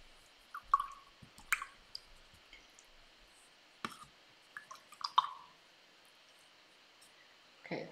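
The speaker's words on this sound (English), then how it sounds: "I'm going to wash this off." Acrylic paintbrush rinsed in a water pot, giving a few scattered soft drips, splashes and clicks at close range with quiet gaps between them.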